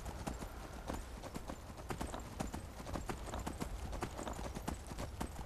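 Horse hooves clip-clop in a steady, rapid rhythm while riding in the Skyrim video game, fairly loud and close, continuing throughout with no talk over it.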